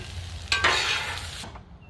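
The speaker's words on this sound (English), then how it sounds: "I'm going to bring my pan over and we're just going to scoop it up right into our third pan" Sausage, spinach and cheese tortellini gets scooped from a pan on a Blackstone griddle, a brief scrape and stir with a soft sizzle that fades quickly, close and with no voices.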